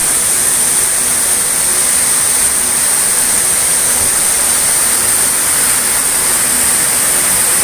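Water pours down a jungle waterfall deep in an East Java forest, making a steady, dense rushing roar with no breaks. No voices are heard over it.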